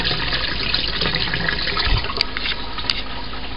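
Water siphoning out of a pulled-off hose back into a sink on a homemade moonshine still, a steady close gushing and trickling flow that runs continuously with no voices.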